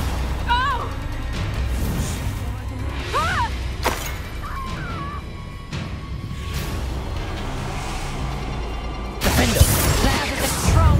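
Confringo fire spell being cast in the Hogwarts Legacy video game, giving sharp bursts and crackling blasts mixed with game effects, creature calls and background music, with a voice speaking over it.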